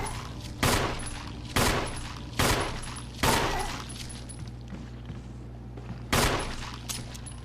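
Gunfire from a firearm in the Resident Evil video game, five sharp separate shots spaced about a second apart, followed by a pause and then a sixth shot, with quiet game ambience between.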